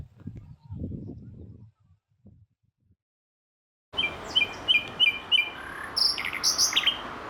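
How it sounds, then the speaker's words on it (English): Xinjiang thrush singing in the wild in northern Xinjiang, China, with bright, clear, repeated whistled phrases in a quick run, then more varied notes over a rough outdoor background, after a few seconds of quiet handling noise. "This is the Xinjiang thrush"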